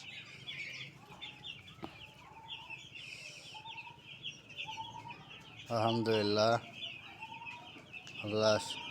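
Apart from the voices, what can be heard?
seven-day-old broiler chicks chirping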